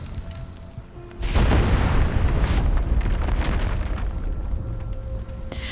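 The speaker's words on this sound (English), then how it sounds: "The bomber detonates in the sky, taking the young pilot with it" A bomber explodes in the sky in the video game Reverse: 1999, giving a sudden loud, deep boom that rolls on as a long rumbling roar and slowly fades.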